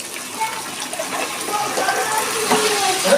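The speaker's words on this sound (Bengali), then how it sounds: "মশলাটা কষানো হয়ে গেছে, আমি এবার ডালটা ঢেলে দিচ্ছি এর মধ্যে।" Cooked mung dal is poured into a pan of fried spices for a bitter gourd lentil dish, giving a soft, steady liquid pouring and sloshing sound close by for a few seconds.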